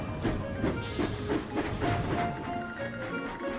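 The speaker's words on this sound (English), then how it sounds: "Edward puffed into the steamworks. Charlie chuffed close behind." Cartoon steam engines Edward and Charlie chuffing along rails into the steamworks, a steady rhythmic puffing and clattering with hiss, moderately loud and continuous.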